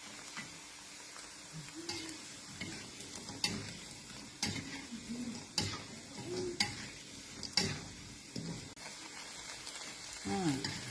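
Food frying in a pan on the stove, a soft continuous crackle with bursts of sizzle and clinks of a utensil stirring against the pan, close by and fairly quiet.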